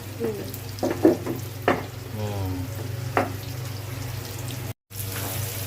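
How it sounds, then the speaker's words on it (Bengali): Egg and eggplant slices (begun bhaji) fry in a pan for a Pohela Boishakh meal, with a continuous crackling sizzle and a few louder spatters and stirring clatters near the start. "এখন হচ্ছে ডিম ভাজি আর বেগুন ভাজি"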